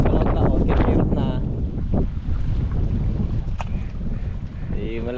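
Wind gusting across open sea aboard a small fishing boat, a steady low rumbling roar buffeting the microphone throughout, with brief voices faintly audible underneath.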